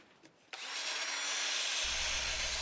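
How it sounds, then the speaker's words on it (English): A nylon brush scrubs stringy bark off a spinning black walnut turning on a lathe, a steady, broad, hissing rub that starts suddenly and continues loud and close, with a low motor hum joining near the end. "I'm using a nylon brush here because I don't want to remove any of that ripple in the wood"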